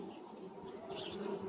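Honeybees buzz at an overcrowded hive on an overcast day, a faint, steady droning hum with slight swells, heard briefly and alone.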